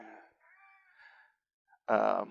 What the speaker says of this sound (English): if you'll excuse the screaming cat